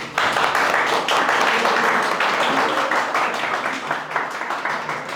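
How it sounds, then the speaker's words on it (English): A university class applauds a student presenter in a lecture room: dense, steady clapping from many hands at moderate loudness, thinning slightly toward the end. "Give a big hand."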